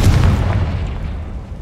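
A fiery Confringo explosion spell goes off in Hogwarts Legacy, a single loud boom at the start that rumbles and fades over the next second or so.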